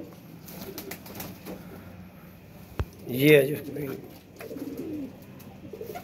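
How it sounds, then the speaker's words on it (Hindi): Weaver pigeons cooing in a crate, a soft throaty burst rising briefly in the middle, close by, with someone talking over and around it. "ये वीवर कबूतर जो क्रीच में पड़े हुए हैं आपके सामने"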